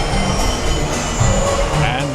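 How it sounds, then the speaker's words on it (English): Theme park trolley train at Islands of Adventure rumbling continuously nearby, loud and steady with wheel squeal and metallic rail noise, crowd murmur underneath. "We're now boarding train number 4."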